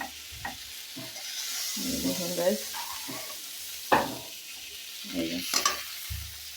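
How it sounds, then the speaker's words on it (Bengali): Onions and green chillies fry in hot oil in a village kitchen after shrimp, a soft steady sizzle with stirring scrapes, while someone talks now and then. "তো এই তেলের মধ্যে এখন আমি পেঁয়াজ কাঁচামরিচগুলো দিয়ে দিব।"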